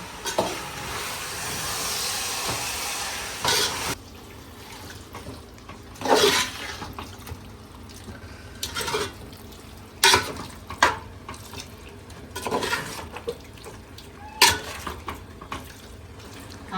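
Rice for chicken dum biryani being stirred and mixed in a pot with water, with a sustained watery rush at first, then scattered scraping and sloshing stirs at irregular intervals, close and moderately loud.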